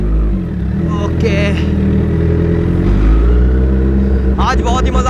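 Superbike engines rev on a night ride in Kolkata, a loud close rumble with rising and falling throttle blips, mixed with talk from riders.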